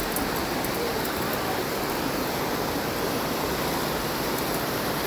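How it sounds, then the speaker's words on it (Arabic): A river rushing past cabin seating at a restaurant in Qabala, Azerbaijan: a loud, steady, close wash of running water that fills the whole scene without a break. "نهر حقيقي."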